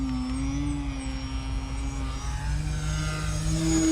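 An RC 3D model airplane hovering in Harrier mode about a foot off the ground, a loud close electric motor and propeller whine held steady with slight pitch wavers, no voices.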